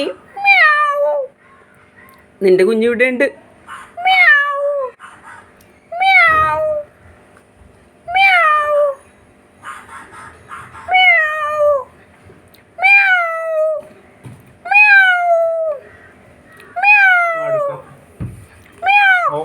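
A cat meows again and again, about ten drawn-out, close calls in a steady rhythm with short gaps between them. A person talks briefly at the start.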